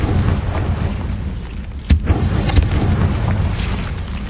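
Confringo blasting spell from Hogwarts Legacy on PS5 bursting inside a cave: a single sharp explosive boom midway over a low rumbling game ambience, followed by a smaller pop.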